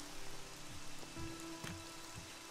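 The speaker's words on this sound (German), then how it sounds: "wir genießen ein wenig den Mitternachtsregen" Midnight rain falling in the video game ELEX, a steady soft patter on surfaces with faint background hum and a few brief thuds, moderately quiet and continuous throughout.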